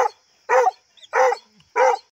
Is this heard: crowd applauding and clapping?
no